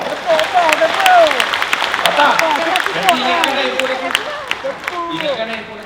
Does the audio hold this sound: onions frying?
no